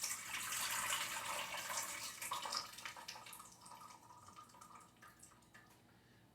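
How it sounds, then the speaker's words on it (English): Pickling solution for dill and grape leaf pickles is poured out of a quart jar, giving a faint, continuous splashing trickle of liquid that slowly tapers off over several seconds. "you pour that solution out of the jar."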